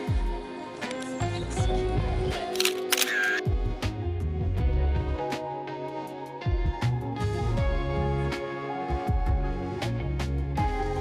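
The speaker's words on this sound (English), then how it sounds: "Another selfie." A camera shutter fires repeatedly while someone takes selfies outdoors near a green building in France. The crisp, close clicks are spaced irregularly across the clip and sound alone, with no talking.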